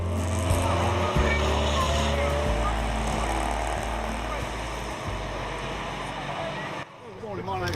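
MG sports cars race around a circuit, engines droning loudly and continuously with rising and falling pitch as they pass, while someone narrates over the noise.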